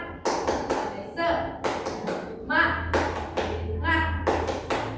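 Several schoolchildren clap together in a short rhythmic classroom clapping chant of sharp claps, close by, with voices chanting between the beats.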